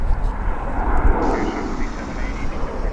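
Airliner roaring steadily at DFW Airport on a chilly morning of plane spotting, a loud sustained engine rumble throughout, with talking over it.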